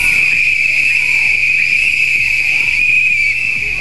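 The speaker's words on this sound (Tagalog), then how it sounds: "3 sunod-sunod na mahaba" A whistle sounds one continuous, loud, shrill blast lasting the whole stretch, with faint background noise beneath it.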